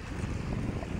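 Steady sea breeze buffets the microphone in a continuous low rumble at Pansol Beach, Lopez, Quezon, with a faint wash of surf behind it and no voices.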